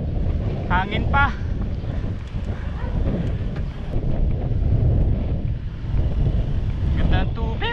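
Wind buffets the microphone during a boat ride on open water, a steady, rough rushing roar that never lets up, with brief faint voices near the start and end.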